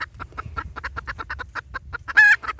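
Bantam chickens establishing a pecking order cluck in a dense, rapid string of short calls close by, with one louder squawk near the end.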